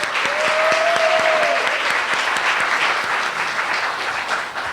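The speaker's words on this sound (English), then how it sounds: "Can we give her a round of applause?" Round of applause from an audience at an Alameda County housing and community development event, dense clapping that swells then slowly thins, with a faint high whistle early on.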